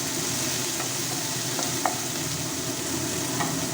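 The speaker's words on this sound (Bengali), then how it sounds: "এবারে আমি এর মধ্যে দিয়ে দিচ্ছি পেঁয়াজ কুচি আর লঙ্কা কুচি। এগুলো দিয়ে একটু নাড়াচাড়া করে ভেজে নেব।" Chopped onion and green chilli sizzle steadily in hot refined oil, with soft intermittent scrapes of stirring throughout, close and continuous with no talking.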